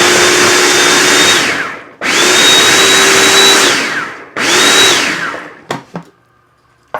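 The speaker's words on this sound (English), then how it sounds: "So I have a food processor, and I just it's going to make a noise, so I'm just going to emulsify these" A food processor whirs loudly while blending green tomatoes for chutney, running in three long bursts separated by short pauses, then a few clunks as it stops.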